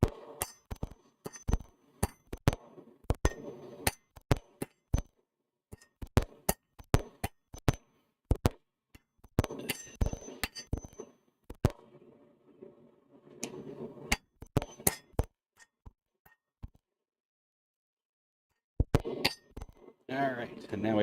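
Blacksmith hammering metal to a taper in a smithy, sharp ringing clinks struck in irregular bursts with short pauses and a longer silence near the end, someone talking between strikes.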